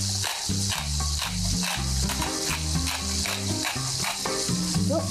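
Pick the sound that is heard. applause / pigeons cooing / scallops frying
scallops frying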